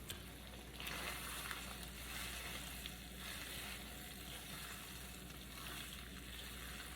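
A dish sizzles steadily in a hot pan while being stirred, a soft continuous frying hiss with faint scraping, fairly quiet and without voices.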